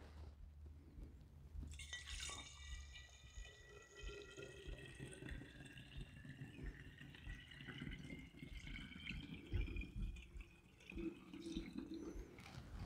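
Bourbon poured into a jar holding a charred oak spiral for a bottle-aged Manhattan, a steady liquid stream splashing and gurgling for most of the clip at moderate level, with a faint low background hum.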